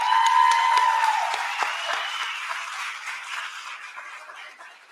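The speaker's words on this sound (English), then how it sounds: "We'll keep clapping as he makes his way around." An audience at a university summit awards ceremony applauds an award recipient, with dense, sustained clapping that is loud at first and gradually thins and fades over several seconds, with no talk heard.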